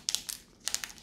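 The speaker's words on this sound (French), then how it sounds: "Je vais essayer de l'ouvrir doucement, celui-là." A Pokémon card booster pack wrapper is slowly torn open in two short bursts of close, crisp crinkling and crackling foil, with a quiet pause between them.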